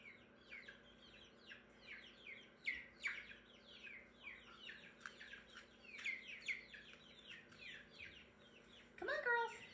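Several chicks chirp and peep repeatedly in a roost at night, a steady chorus of bright, high calls close by with a few louder bursts, including a sharp cluster near the end.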